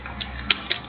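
Mouse clicks in SketchUp while modeling a living-room interior, a few soft separate ticks against faint background hiss rather than a clear, fast triple click.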